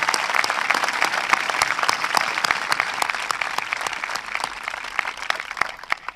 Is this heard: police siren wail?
no